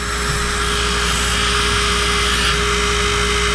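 A rechargeable electric nail file drill runs at its lowest speed, about 30 RPM, giving a steady, continuous motor whine with a constant low hum underneath and no pauses.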